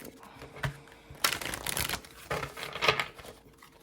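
Cards being riffled and shuffled close up, a few crisp bursts of fluttering paper with quieter handling in between.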